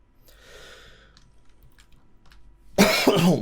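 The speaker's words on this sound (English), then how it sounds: "Coughing and spluttering." Coughing and spluttering in the Stationeers game inside the Scarlet Tunnel: a faint raspy, breathy burst early on, a quiet stretch, then a sudden loud, harsh cough near the end.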